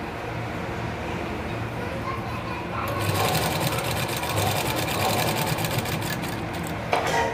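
A sewing machine stitching a lined blouse runs steadily throughout, a dense, continuous mechanical whirr that grows louder and busier partway through, with faint background voices underneath.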